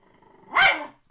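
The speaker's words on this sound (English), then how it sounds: "Do you hear the dogs playing now?" Dogs at play give one short gruff bark blending into a growl, loud and close, alone against a quiet room.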